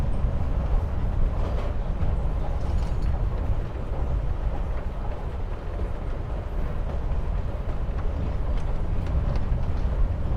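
Train riding ambience in the Life Is Strange video game: a continuous low rumble and rattle of a moving rail car, steady and unbroken throughout.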